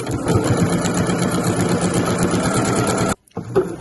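A sewing machine stitches binding onto a weekender bag, a steady close rapid whir running for about three seconds with a brief back stitch, then stopping abruptly before a short restart.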